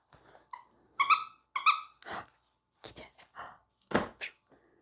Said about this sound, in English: There's a squeaker in here.